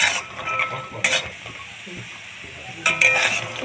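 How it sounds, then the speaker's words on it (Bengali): Lentil dumplings (bori) drop into hot oil and fry, with two bursts of hissing sizzle and soft stirring scrapes between them, close by and without speech. "তেল গরম হয়ে গিয়েছে এর মধ্যে দিয়ে দেবো বড়ি বড়িগুলো আমি খুব ভালো করে ভেজে নেবো লাল করে"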